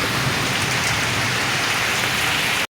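Heavy rain falls in a village as a loud, dense, unbroken hiss of drops on surfaces, steady throughout until it cuts off abruptly at the end, with no voices.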